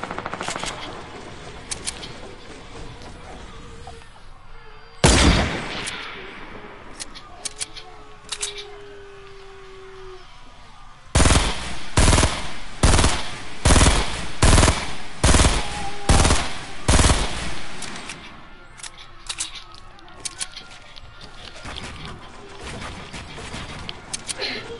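Video game gunfire crackles in sharp bursts, with a single loud shot followed later by a rapid rhythmic volley of automatic fire over faint game background sound.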